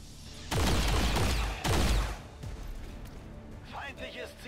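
Heavy gunshots in the video game XCOM 2, two loud booming blasts with rumbling tails, followed by quieter impact noise and a brief voice.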